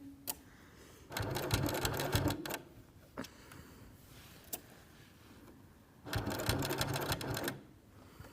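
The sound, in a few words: sewing machine stitching a triangle pencil case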